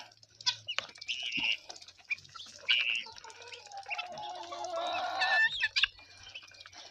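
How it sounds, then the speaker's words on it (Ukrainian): Harsh, rapid chattering calls from several guinea fowl in a village on a morning, overlapping and repeating in bursts, fairly close with faint background noise. "Цесарки втікачки наші"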